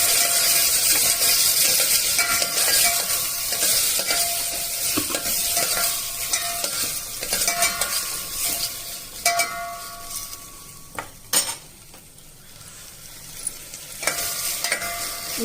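Tomato pieces fry in a pan with steady, close sizzling, joined by scraping stirs and occasional sharp clinks of a utensil against the pan, with no voices.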